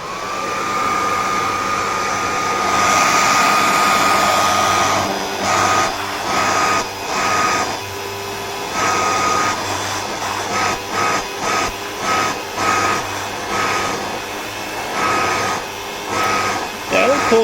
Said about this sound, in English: What I seriously love about this vacuum is that it's literally no louder than your standard household hair dryer.